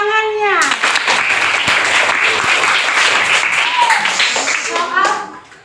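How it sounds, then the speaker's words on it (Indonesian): Students in a classroom clap together in a loud, brisk burst of applause, with a teacher's voice just before and children's voices faintly mixed in as the clapping fades near the end. "Tepuk tangannya."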